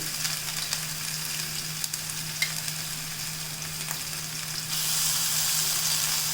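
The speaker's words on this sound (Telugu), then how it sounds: "ఇది బాగా వేగనిస్తాను" A ground paste of onions, shallots, ginger, tomato, peanuts and garam masala fries in a pan with a steady, close sizzling hiss. A few faint stirring clicks sound, and the sizzle swells louder near the end.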